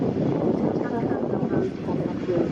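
A Jet2 airliner at Manchester Airport gives off a broad, steady engine roar that swells and eases slightly, heard from a runway-side viewing area.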